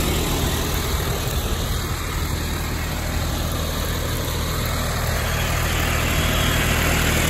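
A John Deere 5310 tractor engine runs under load while pulling a two-bottom plough through red soil, a loud, steady close diesel drone that grows slightly louder toward the end.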